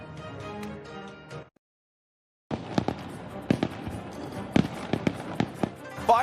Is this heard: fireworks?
yes